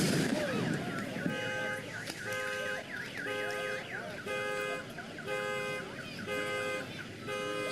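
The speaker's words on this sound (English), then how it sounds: "That was so loud it set off the car alarm" A car alarm set off by a loud blast blares in a repeating cycle of warbling and stepped electronic tones, loud and close, after an initial burst of noise, with brief voices in the background.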